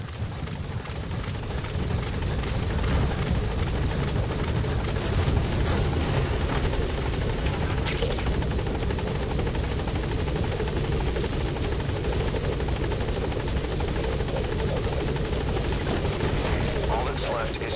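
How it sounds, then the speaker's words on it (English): Support helicopter in Metal Gear Solid V: The Phantom Pain, a steady loud rotor and engine drone running throughout with game voices faintly underneath. "Support helicopter."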